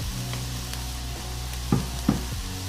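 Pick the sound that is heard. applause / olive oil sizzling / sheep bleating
olive oil sizzling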